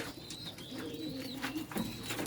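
Pet pigeons kept in captivity coo softly and repeatedly, gentle rolling calls nearby with a few overlapping voices in a quiet setting.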